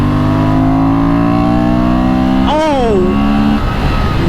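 A 2023 Honda Transalp XL750 motorcycle engine revs hard as the throttle opens, steady harmonic drone climbing and then dropping sharply, loud and close, with a brief exclamation from a rider over it.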